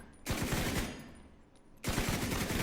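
Rapid automatic gunfire while shooting targets in the video game The Division 2, two loud bursts of dense rattling shots separated by a brief quieter pause.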